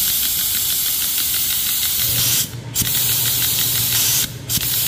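Automatic grease pump running in a steady, loud spray-like hiss with a low mechanical hum underneath, broken by two brief pauses.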